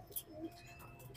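Racing pigeons coo softly in a loft, a few low murmuring calls near the microphone with faint chirps, no talk.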